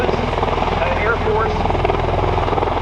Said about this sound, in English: This is the Textron Bell CV-22 Osprey aircraft.